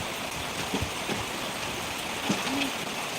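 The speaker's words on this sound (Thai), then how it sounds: "เพราะว่าฝนมันตก" Rain falling steadily during a stormy, windy morning, a continuous close hiss of drops with a few faint bird hoots and stray sounds scattered through it.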